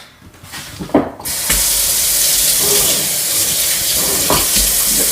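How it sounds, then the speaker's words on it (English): Cold water runs steadily from a kitchen tap after a brief clatter at the start, a constant close hiss that continues without talk. "the cold tap going."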